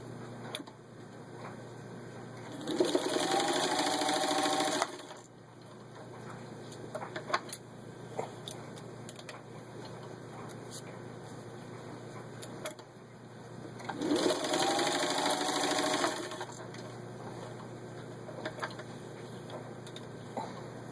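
A vintage 1950 Singer 15-91 sewing machine stitches through four layers of vinyl upholstery in two bursts of rapid whirring, each about two seconds, with quiet mechanical ticks between and a faint steady background hum.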